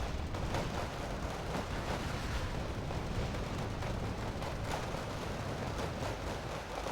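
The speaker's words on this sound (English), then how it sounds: "A lot of fire coming out of these houses from my Riflemen." Sustained rifle gunfire from riflemen holed up in houses in the wartime strategy game Wargame: Red Dragon, dense crackling volleys forming a continuous roar with no gaps.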